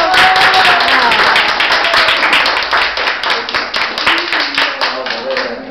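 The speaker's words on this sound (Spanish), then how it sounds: "Así que un aplauso para ellos." Wedding guests clap for a newly married couple right after a civil ceremony, loud close rapid clapping from a small group in a room, with cheering voices mixed in throughout.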